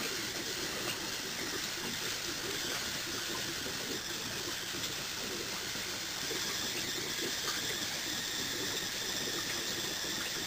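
Pressurized HHO steam from a 2 lpm generator, a steady broadband hiss that holds at an even level for the full length, close and unbroken, with no voices over it.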